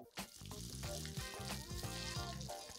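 Crumbed pomfret fish frying in a hot pan gives a steady, close sizzle with a dense crackle that runs alone through the whole stretch.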